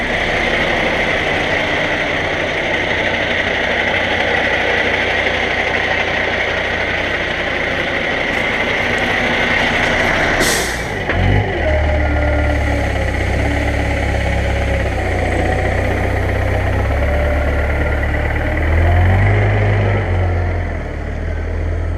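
A heavy truck that has seen hard use on South Island roadworks idles steadily and close, with a sharp knock midway and deeper, louder engine surges toward the end.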